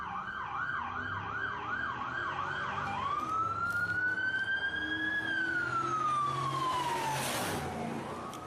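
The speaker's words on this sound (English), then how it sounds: "I'm going to let you close after the sirens go by." Emergency vehicle sirens pass close on a city street, first a fast rising-and-falling yelp, then a long wailing sweep that rises and slowly falls, loud over traffic noise with a horn blast near the end.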